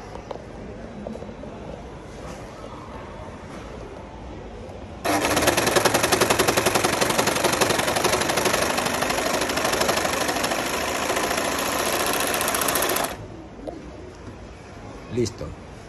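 Singer Heavy Duty 14HD854 overlock machine serging through several stacked fabric layers: a loud, steady, rapid mechanical whir that starts abruptly, runs for about eight seconds and stops cleanly, with quiet room noise before and after.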